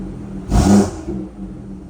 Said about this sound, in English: I won't rev it too much, but just so you can get an idea of what the car sounds like